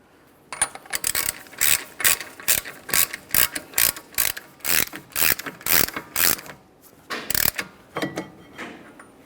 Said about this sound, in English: Let's install our axle nut.